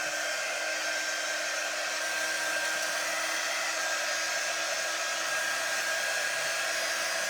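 A hair dryer blows air onto a chalk-decorated Easter craft, a steady, loud whooshing whine that stays even throughout with no talk.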